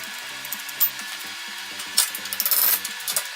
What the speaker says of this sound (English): I have to tap down the bushing a little bit to get it out